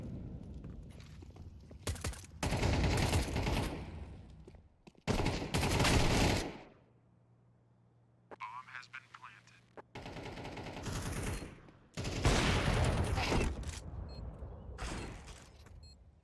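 Rapid pistol gunfire in Counter-Strike 2 comes in loud clustered bursts, with a quieter gap of footsteps and faint clicks midway. A commentator talks over much of it.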